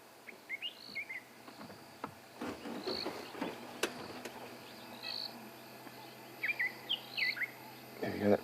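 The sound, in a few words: white-throated robin chat calling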